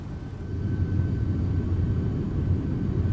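Flight-simulator cabin drone of an MD-11 freighter on ILS approach with flaps extended, a steady low rumble of engines and airflow holding at an even level.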